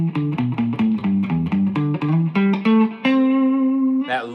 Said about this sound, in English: That lush reverb.